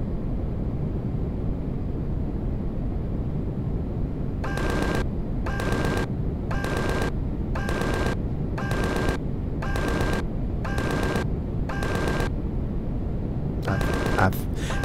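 Turret gunfire from a capital ship in the space survival game Empyrion Galactic Survival, rapid regular bursts of about nine evenly spaced shots over a steady low rumble, loud and close.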